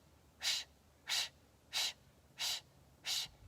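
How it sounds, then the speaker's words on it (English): Five forceful, evenly spaced exhales come through the nose or mouth during a seated yoga breathing exercise outdoors. The breaths are close and loud, with quiet gaps between them and no talking. "So it's a very forceful exhale. The inhale is natural."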